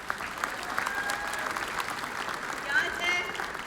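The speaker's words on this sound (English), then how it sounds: "Let's give her a big round of applause" Audience applause at the Miss Indian World 2019 pageant in Albuquerque, New Mexico, steady continuous clapping from a large crowd, moderately distant, with a few whistles and cheers over it.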